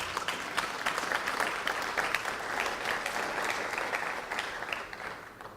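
An audience at a talk on health effects of electromagnetic fields applauds steadily, a dense, even wash of clapping lasting several seconds with no voices on top.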